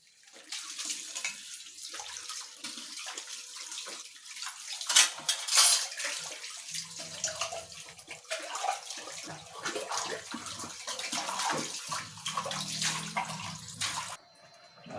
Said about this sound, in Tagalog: Tapos na tayo maghugas. Palinis na rito sa ating lababo.